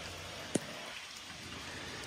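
Rain falls steadily outdoors, a continuous even hiss of drops on surfaces, with one brief sharp tap near the start and no voices.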